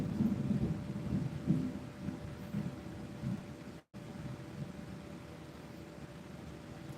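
A thunderstorm rumbles outside as a low, distant roll of thunder under steady rain-like noise, faint and continuous.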